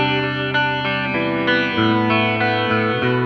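Electric guitar through a Line 6 Helix preset playing a sustained chord progression with shimmering chorus before a Jazz Rivet amp and a wash of reverb, clean and loud with no voices.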